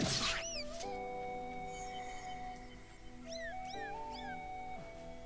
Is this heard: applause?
no